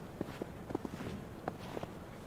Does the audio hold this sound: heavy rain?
no